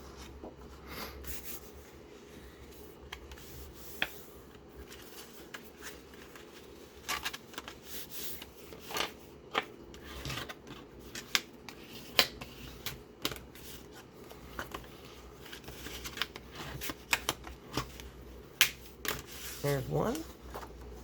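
Paper being folded into journaling fold-outs, scattered crisp creases and rustles close by, heard under a voice speaking.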